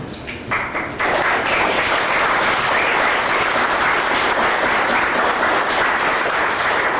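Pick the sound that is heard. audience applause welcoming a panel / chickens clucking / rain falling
audience applause welcoming a panel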